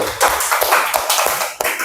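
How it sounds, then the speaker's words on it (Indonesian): Applause from a classroom audience of students after a sign-language recitation of Surah Al-Fatihah, a dense burst of close hand claps lasting under two seconds. "Oke, tepuk tangan dulu buat beliau."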